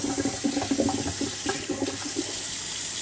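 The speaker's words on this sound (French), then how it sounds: "De l'eau dedans." Water poured into a pot while cooking rougail zandouille, a dense, continuous rushing gush that stays loud and close for about three seconds, with no talking.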